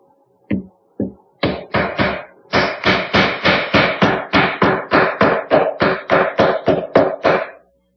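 A hammer taps glued wedges into split spindles of a Windsor chair: two single knocks, then a steady run of about fifteen sharp, close, evenly spaced blows.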